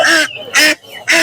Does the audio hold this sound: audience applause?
no